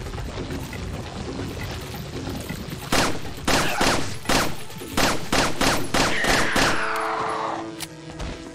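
Gunfire in the video game Resident Evil 4 comes as a loud burst of repeated shots, rapid and irregular, after a few seconds of quieter game ambience, with a ringing tail fading at the end.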